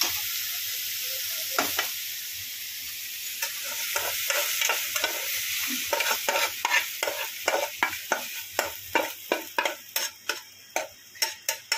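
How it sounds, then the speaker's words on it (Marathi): Spice masala dry roasting in a pan for a Solapur-style bazaar amti, with a steady dry rustle and a run of sharp, regular scraping ticks as a spoon stirs and scrapes the pan, growing more frequent and distinct toward the end. "अशा प्रकारे हा मसाला भाजून घ्यायचा आहे।"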